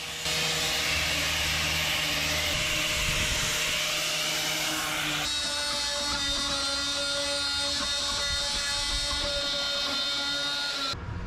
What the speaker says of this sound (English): All uneven surfaces must be treated using various types of grinders, depending on the material and required finish.